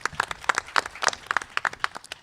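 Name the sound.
audience applause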